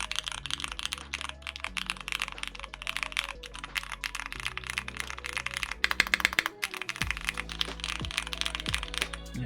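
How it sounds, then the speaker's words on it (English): Mechanical keyboard fitted with Cherry petal switches, a QK65 V3, typed on in a steady stream of close, crisp clacks with occasional louder spacebar-like thuds, no talking. "How do the cherry petal switches sound and feel?"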